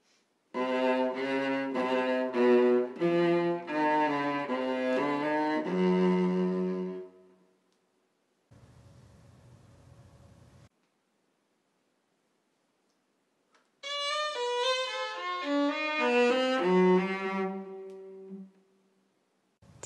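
Bach composition demonstrated on a single melodic instrument: a rapid run of cello-line notes, a pause with a faint low hum, then a second quick run of answering higher voices, close and clear, no speech.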